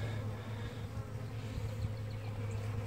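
Honey bees buzzing inside a small overwintering hive unit, a soft, steady drone with a low hum underneath, faint and continuous.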